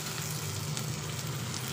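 Onion fries in a pan with a continuous, even sizzle, moderately close and soft, with no voices over it.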